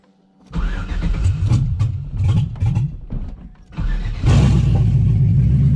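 An LS-swapped Camaro cranks and fires up: a short whirring crank, then the engine catches and runs rough and low, stumbling briefly before settling into a loud, deep idle close by.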